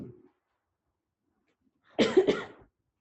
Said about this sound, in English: Keep on my mask while I cough, so I cough into my mask.